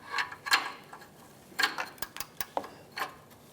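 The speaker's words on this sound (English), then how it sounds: "It's going to be a 22mm O2 sensor socket. So we will put that on now and break this free." A 22mm O2 sensor socket and ratchet working an oxygen sensor loose on a 2007-2013 Mitsubishi Outlander, a sparse series of sharp clicks and ratcheting ticks, close and fairly quiet.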